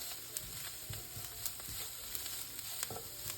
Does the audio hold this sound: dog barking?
no